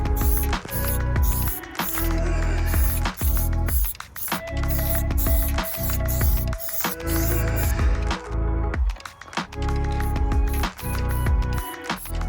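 A spray paint can hissing in long continuous bursts broken by short pauses while a budget street cruiser build gets painted. The spray sounds loud and close, with a rattly, broadband texture.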